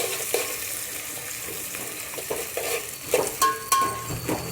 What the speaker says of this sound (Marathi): इथे 2 मोठ्या आकाराचे कांदे असे स्लाइसमध्ये कट करून घ्यायचेत आपल्याला आणि ते आता फ्राय करून घ्यायचेत